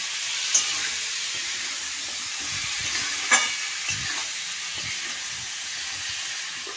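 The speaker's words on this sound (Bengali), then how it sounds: "আমি কিছুক্ষণ ভাজা করে নেব" Chicken seasoned with salt and turmeric frying in a pan gives a steady, close sizzling hiss throughout, broken by a few small clinks and taps, with no voices.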